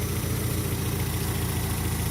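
A 1986 Nissan D21 pickup's engine idles steadily, a continuous low rumble with an even mid-range hum, moderately loud and close, with no speech over it.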